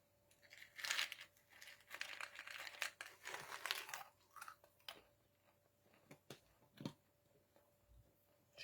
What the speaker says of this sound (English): Chewing peanuts.